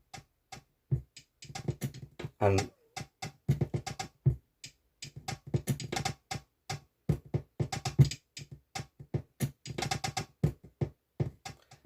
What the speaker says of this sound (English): going through some samples which are just clicks and clonks and things I made with some stuff